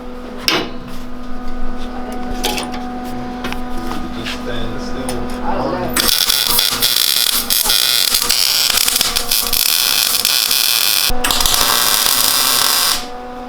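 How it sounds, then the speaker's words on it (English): Welding on a mini trike engine mount for a 440cc engine upgrade: a steady hum gives way to a loud, continuous crackling buzz from about six seconds to the end, close up, with a short break partway through. "It wasn't really necessary to weld that whole thing, but you know, perfectionist, so I'm going to."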